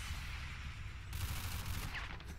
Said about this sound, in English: You and that machine gun on Overwatch.